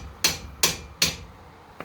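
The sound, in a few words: hammer striking a wedge to pop a ball joint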